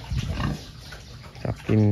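A pig kept for sale on a small farm grunts close by, a short low burst near the end, with someone talking over scattered snorts and shuffling earlier.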